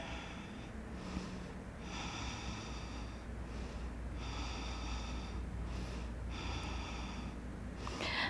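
Slow, deep breaths held in a yoga pose, close and clear, with about four long hissing inhale-exhale cycles at an even pace and no talk over them.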